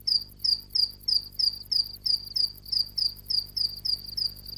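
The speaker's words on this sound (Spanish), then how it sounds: "Se trata del grillo común." A field cricket chirps in a steady, even rhythm, a dozen or so shrill pulses repeating without pause over quiet background.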